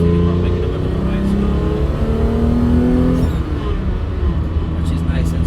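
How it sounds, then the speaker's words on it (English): A BMW E28 M5 engine revs up and holds loud and steady, its power steering pump whining faintly beneath the continuous engine drone. "So you can hear the power steering pump making a bit of a noise."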